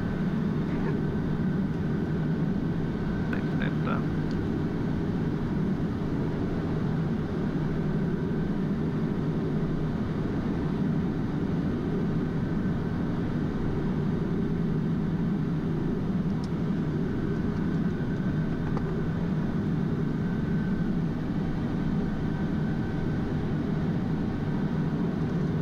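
Steady engine drone of a PC-12 turboprop on the ground just before taxiing, a loud continuous low rumble with a faint tonal whine that holds unchanged throughout.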